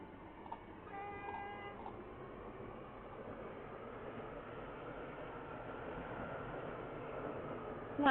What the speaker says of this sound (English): This is Port Benton. This train terminates here.